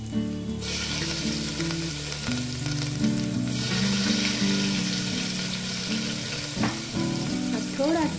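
Ginger dropped into hot oil in a pan sizzles loudly and continuously at close range, a dense frying hiss with some occasional stirring and a few faint clinks toward the end.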